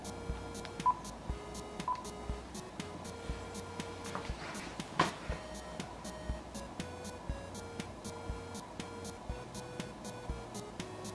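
Dialing tones and beeps sound from a Samsung Galaxy S7 during an underwater test, a steady series of short, evenly spaced tones with a few louder blips, faint and alone, with no talking.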